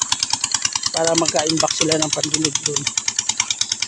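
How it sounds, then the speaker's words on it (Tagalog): An irrigation water pump motor runs beside a riverside garden with a steady, rapid chugging pulse. A person talks over it in the middle. "Ayan ang motor ng pansipsip sa tubig"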